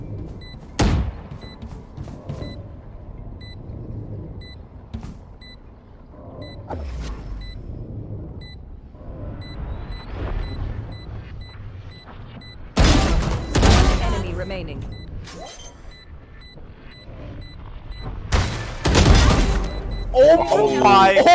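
Gunfire in a competitive shooter video game: a single early shot, then two sharp bursts of loud rapid gunfire later on, with quieter game sounds and mechanisms in between.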